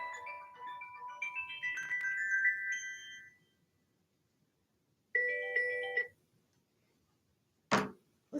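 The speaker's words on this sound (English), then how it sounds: "And that's my phone" A mobile phone ringtone plays in short melodic bursts, two jingling phrases separated by a pause and followed by a sharp clatter, fairly clear in a quiet room with no talk.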